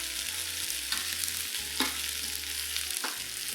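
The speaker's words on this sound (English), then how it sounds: "Rub your vegetables up the side of the wok" Vegetables stir-fried in oil inside a new carbon steel wok on an induction cooker, a steady close sizzle broken by a few scraping strokes as the food is pushed around the pan.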